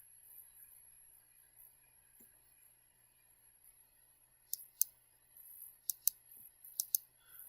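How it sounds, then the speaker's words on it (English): A computer mouse clicks while drawing in Solid Edge CAD software: a quiet stretch, then about six crisp, close clicks, mostly in quick pairs, over the last three seconds. "So click on the mirror, say okay, and click on this line here."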